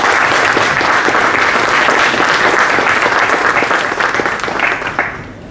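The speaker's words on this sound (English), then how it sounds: "Let's all extend a warm welcome to him with a huge round of applause." A large crowd claps loudly and continuously, the applause holding steady before tapering off slightly toward the end.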